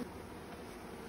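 A mass of honeybees, about four pounds, hums inside a bee package box, making a faint, steady buzz that holds evenly throughout.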